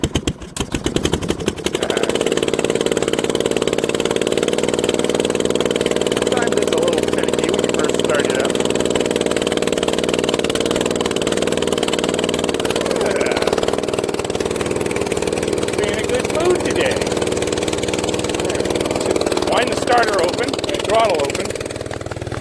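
A 1960s Terra Mite minibike starts on choke outdoors in the snow, cranking briefly before catching into a steady, close, sputtering idle that runs on at an even level.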